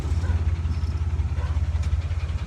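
A loud, low engine rumble with a steady pulsing throb, like a vehicle with a deep, noisy exhaust idling or cruising close by.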